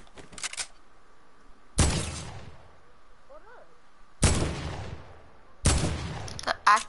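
AK assault rifle fire in a video game, loud sharp bursts of shots repeating in four separated volleys, with quieter game sounds between.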